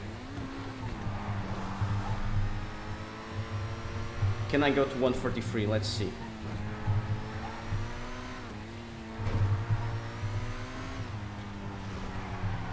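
A S80RR supercar in GTA 5 drones along with a steady engine tone that rises and falls through gear changes, with a brief screech in the middle and someone talking over it throughout.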